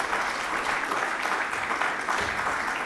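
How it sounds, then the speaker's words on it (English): An audience at a university lecture claps together in sustained applause, a dense crowd of hand claps at moderate loudness that continues evenly to the end. "I would like to make applause for him"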